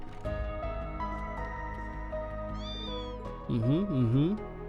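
A cat meows in the video game Trails into Reverie, two quick rising-falling calls close together over steady background music from the game.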